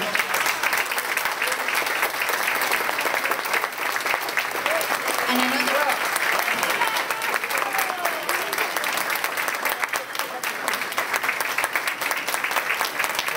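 Crowd at a 2009 mayoral campaign kickoff rally applauds continuously, dense clapping throughout with scattered cheers and voices mixed in.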